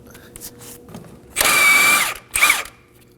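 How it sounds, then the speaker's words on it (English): Nut being spun off a front sway bar link on a 2011-2016 Kia Optima with a ratcheting power tool: two bursts of loud, whirring, rattling mechanical noise, the first longer and the second shorter, close by with no talk. "And now remove the nut."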